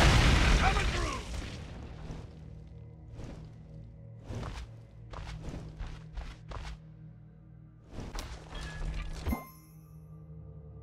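Hercules's Earth Smash ability erupts in the Smite video game as a series of deep, booming blasts, roughly half a dozen heavy impacts spaced irregularly with a quieter cluster in between, and game voice lines mixed among them.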